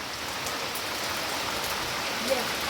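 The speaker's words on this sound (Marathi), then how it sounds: "आता परत पाऊस पडायला लागले" Rain falling in a Konkan coastal village, a steady, even broadband hiss of drops on surfaces that holds constant throughout, close and moderately loud.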